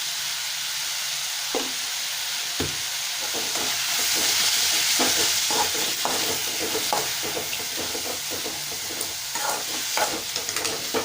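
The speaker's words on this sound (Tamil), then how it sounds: "தக்காளி வந்து நல்லா மசியணும்" Tomatoes fry in a pan while they are stirred and mashed, giving a steady sizzle and hiss punctuated by close scraping and tapping strokes of a spoon, with no talking.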